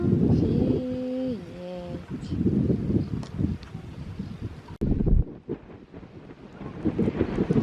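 A gentle breeze at a beach buffets the microphone in uneven gusts of rumbling wind noise, with some talking heard through it.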